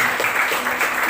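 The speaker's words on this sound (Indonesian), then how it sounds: "Beri tepuk tangan yang meriah buat Tuhan." A congregation at a Christmas church service claps together in a dense, continuous burst of applause.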